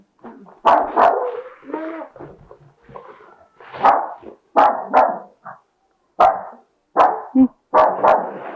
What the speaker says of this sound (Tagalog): Tahol lang.